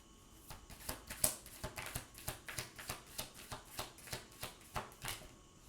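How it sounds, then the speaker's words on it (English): Tarot cards being shuffled and drawn, a regular run of soft riffling taps at an even rhythm, close and fairly quiet with no voices. "we'll pull an advice card to close"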